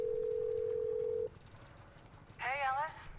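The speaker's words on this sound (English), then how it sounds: "And then we are going to call Jess, right?" Phone dialing tones in the Blair Witch horror video game: a steady single tone holds for over a second, then after a pause a short burst of warbling ringback-like tones sounds, with low ambient hum underneath.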